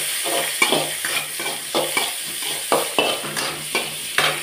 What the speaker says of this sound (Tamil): வதக்கிக்கிறேன்